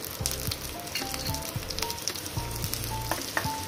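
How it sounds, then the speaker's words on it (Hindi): Green chillies and chopped ginger hit hot oil with cumin, giving a steady close sizzle and crackle that runs throughout, with a few soft clinks and a low tonal layer beneath, and no talking. "इसके साथ ही इसमें डालेंगे 2 हरी मिर्च, 1 टुकड़ा अदरक का मैंने छोटे टुकड़े में काट लिया है"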